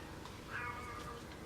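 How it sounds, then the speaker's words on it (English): A pet cat meows once in the background, a faint, drawn-out cry set against low room noise, with no one speaking. "If you hear my cat meowing in the background,"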